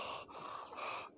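A person's voice imitates the labored, raspy breathing of a chicken sick with bronchitis: two or three faint, close gasping breaths with short pauses between them.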